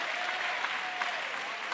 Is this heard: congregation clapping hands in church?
yes